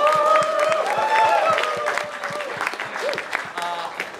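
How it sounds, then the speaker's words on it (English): Audience applause at a hackathon closing ceremony in an indoor room, dense clapping that starts strong and then eases slightly, with some voices and cheers mixed in throughout. "Give yourselves a round of applause."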